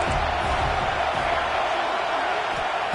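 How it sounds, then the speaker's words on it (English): College football stadium crowd roaring on a third down during a Florida Gators game, a dense sustained wash of cheering and noise at steady loudness for the whole stretch. "3rd down, and the crowd really getting into it."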